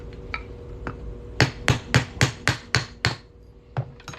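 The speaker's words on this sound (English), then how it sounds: "we're going to hammer this on through here" A hammer strikes a quarter coin ring on a steel mandrel in a steady run of about a dozen sharp metallic blows, a few lighter taps leading into evenly spaced loud hits, close and without talk.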